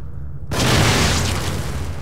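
A sudden loud gunshot and explosion from the horror video game The Evil Within burst in after near silence, then leave a heavy rumbling roar that fades slowly.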